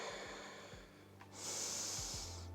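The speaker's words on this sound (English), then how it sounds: "Nice deep breaths." Deep breathing during a stretch routine, one slow inhale followed by a long, airy exhale, close and quiet with faint low background hum.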